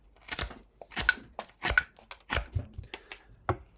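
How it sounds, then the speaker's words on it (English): A knife whittles a small wooden block, cutting off a corner to shape a dove, in a string of crisp, close scraping strokes with short pauses between them and no talking. "A slight sweeping cut motion can help quite a bit with this at first."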